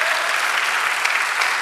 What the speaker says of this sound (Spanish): Dale aplauso al Señor con ánimo, con gozo.